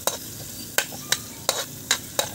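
Garlic and ginger fry in oil in a pan while a spoon stirs them, giving about six sharp scraping strokes in a steady rhythm over a soft, continuous sizzle, close up with no talking.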